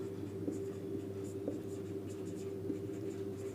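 A pen writes on paper during a maths lesson, a soft steady scratching with light taps, close but quiet over a constant hum, with no talking.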